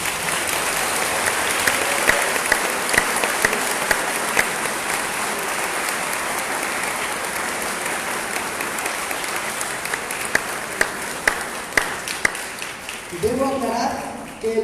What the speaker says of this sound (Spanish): pido un fuerte y caluroso aplauso